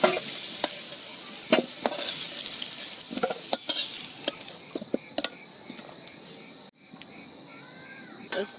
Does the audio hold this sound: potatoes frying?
yes